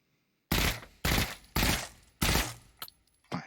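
Burst-fire gunshots from a rifle in the Pavlov VR video game ring out as four loud, sharp bursts at an even pace, followed by a couple of fainter clicks and a smaller shot near the end, with no talking.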